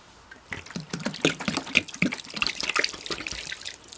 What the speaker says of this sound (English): I think I could use more water in that.